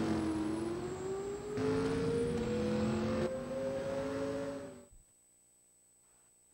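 Engine of a moving ambulance, a continuous droning hum that rises steadily in pitch as it accelerates, then cuts off abruptly into near silence.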